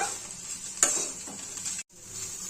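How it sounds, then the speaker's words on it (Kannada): Deep-fried cauliflower (gobi) being stirred in a sizzling pan for a dry fry, with a steady close frying hiss, a sharp scraping stir near the one-second mark and a brief pause before the sizzle resumes. "ಇದಕ್ಕೆ ನಾವೇನು ಮೊದಲೇ ಡೀಪ್ ಫ್ರೈ ಮಾಡ್ಕೊಂಡಿದ್ವಲ್ಲ ಗೋಬಿನ ಅವನ್ನ ಸೇರಿಸ್ಕೊಂಡ್ಬಿಡೋಣ ಇವಾಗ ನೀಟಾಗಿ ಮಿಕ್ಸ್ ಮಾಡ್ಕೊಳ್ಳೋಣ"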